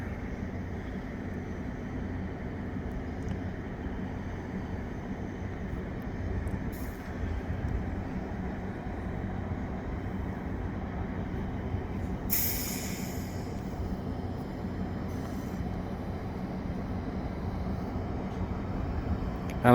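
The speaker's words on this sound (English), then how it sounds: "it's a Mascouche train, commuter train." A Mascouche commuter train passes at a distance with a steady low rumble, joined briefly by a hiss or horn-like burst partway through.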